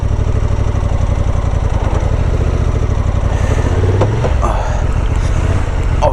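A Honda Transalp 750 motorcycle engine, stuck off-road, churns loud and close in first gear with a steady pulsing throb that swells briefly as it strains without moving.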